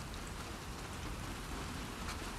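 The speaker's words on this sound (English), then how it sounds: "I kind of like this weather that she going through, like the cold, rainy weather." Steady rain in cold weather in the video game The Last of Us Part II, a continuous even patter of drops on surfaces, soft and constant with no voices.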